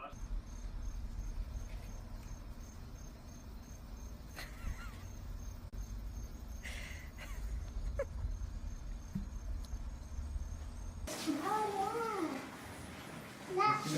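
A cat lets out a few drawn-out meows near the end, following a long stretch of steady cricket chirping outdoors, with faint background voices.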